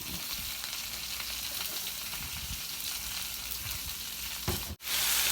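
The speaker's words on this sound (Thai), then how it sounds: "ราดผงกะหรี่แล้วก็ผัดนะครับ" Sea crab stir-fried with curry powder, tomato and onion gives a loud, steady close sizzle with faint stirring and scraping, and the hiss cuts off sharply near the end.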